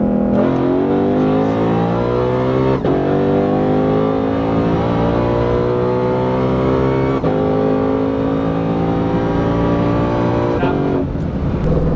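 A car engine revs hard in first gear, climbing in pitch as it accelerates toward an 8,000 rpm shift point, loud and close throughout with brief dips where the throttle eases.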